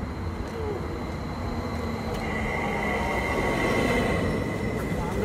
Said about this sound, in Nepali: हाम्रो ट्रेन पनि आइसक्यो।